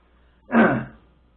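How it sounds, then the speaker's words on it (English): A single short, harsh cough or throat-clearing burst, close and fairly loud, in an otherwise quiet room. "excuse my coughing and gagging and snorting and all sorts of junk."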